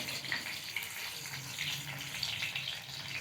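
Stuffed bitter gourds frying in hot oil for a dry bhaji, a steady close hiss and crackle of sizzling that runs without break, with no talking.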